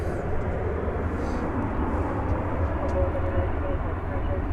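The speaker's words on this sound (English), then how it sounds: "American Flight 528 coming in from Charleston, 737-800 model." An American Airlines Boeing 737-800 arrives from Charleston at DFW Airport. A steady, broad jet roar holds throughout, loud and constant, and a voice talks over it.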